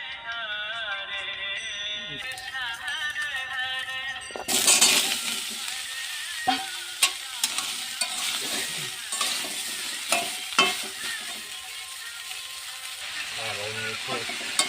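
Vegetables sizzle and fry in a pan on a home stove, a steady broadband hiss with loud stirring scrapes and clinks throughout, preceded by a brief stretch of background music.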